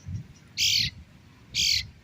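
Parent birds near a nest of young birds give two harsh, squawking calls about a second apart, close by and fairly loud over quiet outdoor ambience.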